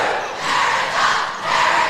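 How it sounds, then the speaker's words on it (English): A crowd at a high school girls' prep volleyball match between Mount Carmel and Dominican cheers and roars loudly, swelling in waves across the whole stretch with no talk over it. "The crowd is starting to get loud."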